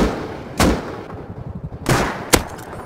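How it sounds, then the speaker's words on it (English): Shots ring out from the survival video game Rust during a co-op raid: two sharp reports with some smaller pops in between, fairly loud, each followed by a short echoing tail. "They're shooting at us."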